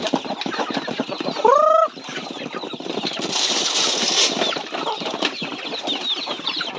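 A flock of native chickens clucking close by on a farm, with a steady busy chorus of overlapping clucks and one sharp rising squawk early on, and no one speaking.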